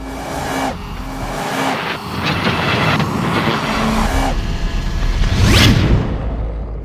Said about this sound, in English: You might be able to hear a little bit of wind in the background